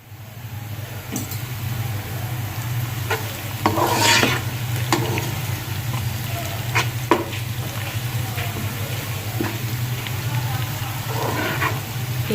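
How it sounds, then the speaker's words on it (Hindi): Chopped onions fry in hot oil for spicy vegetable rice, giving a loud, steady, close sizzling hiss throughout, with occasional scraping stirs of the spoon in the pan. "ऑयल ऐड करने के बाद हम इसको थोड़ा गर्म करेंगे और इसमें अपनी कटी हुई प्याज शामिल करेंगे।"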